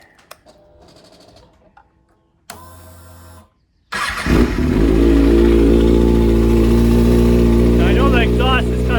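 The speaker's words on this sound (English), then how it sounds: "can you hear that ticka ticka ticka ticka ticka? That's the top end." A Kawasaki ZX6R motorcycle with an aftermarket racing exhaust and a ticking top end starts after brief talk, then settles into a loud, steady, close idle with a rapid mechanical tick that is hard to separate from the exhaust roar.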